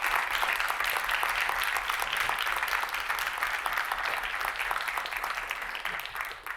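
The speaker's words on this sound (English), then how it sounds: "Ladies and gentlemen, a very, very warm round of applause, please, for Freddie." A seminar audience gives a warm round of applause for a guest speaker named Freddie at a journalism event, steady dense clapping throughout that tapers slightly at the end.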